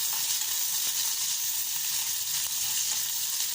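Garlic, small onions and chili fry in hot oil in a pan, a dense, steady sizzle with a faint stirring scrape now and then, close and constant throughout, without voices.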